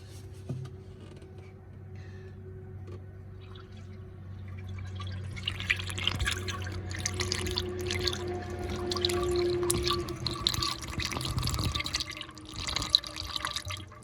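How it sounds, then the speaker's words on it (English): Coolant is poured into the radiator of an old car during a Hemi engine swap, a faint trickling and gurgling of liquid that grows busier midway over a low steady hum. "let me add some more coolant into the radiator."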